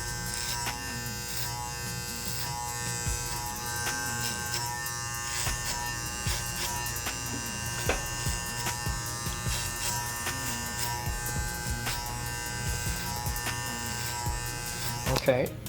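An electric hair clipper fitted with a number 2 guard buzzes continuously while blending a high skin fade, its steady hum rising and dipping slightly with each pass, with a voice talking over it.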